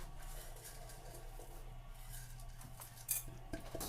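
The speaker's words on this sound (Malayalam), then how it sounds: "അതാ നല്ലപോലെ ഇളക്കി കൊടുത്ത്" A spoon stirs batter seasoned with salt and asafoetida, giving soft, quiet scraping and clinks against the bowl, with one sharper metallic tap near the end.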